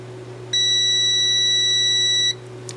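Continuity tester on an electrical connection giving one steady electronic beep lasting nearly two seconds, clear and close, with a low mains hum underneath and no talking.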